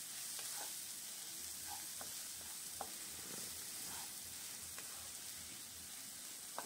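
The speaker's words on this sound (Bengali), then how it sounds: "এবার পেঁয়াজটা একটু ভাজা করে নিতে হবে" Salted onion frying gently in a pan for a Bengali katla fish head chorchori: a faint, steady sizzle with scattered soft crackles and pops, no voices.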